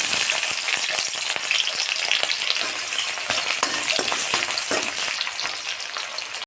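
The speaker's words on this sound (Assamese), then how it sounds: "এতিয়া মই কেৰাহীত তেল দিছোঁ, পিঁয়াজখিনি দি দিম।" Onions frying in oil in a kadai at an outdoor picnic cookout, a dense, constant near sizzle with frequent small crackles and spatula scrapes, no voices.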